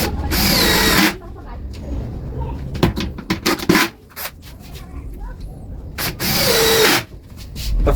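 A power drill drives screws into an upper wall cabinet during a woodworking installation. Two loud, close whirring bursts of drilling open and close the stretch, with someone talking and a few small knocks in between.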